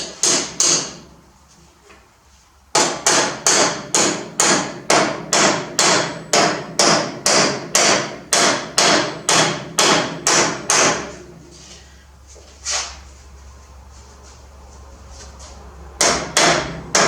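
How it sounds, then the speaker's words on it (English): A hammer taps nails straight in a vise: a quick run of about twenty sharp, evenly spaced metallic strikes, close and loud, a pause with a single tap, then two more hits at the end. "Tap them straight."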